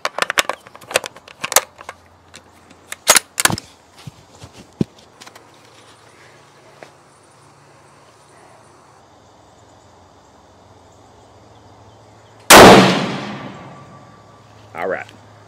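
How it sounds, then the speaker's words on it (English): Five sharp, loud rifle shots from a Savage Stealth Evolution .223 on an Accutec bipod, fired in quick succession outdoors with rolling echoes, followed by a pause and a final loud crack and ring-out later. "I'm gonna shoot 5 shots downrange. I'm not gonna stop"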